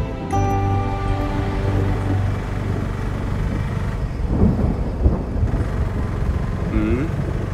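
Deep thunder rolls and rumbles continuously before rain, loud and sustained, with a film score and people speaking over it.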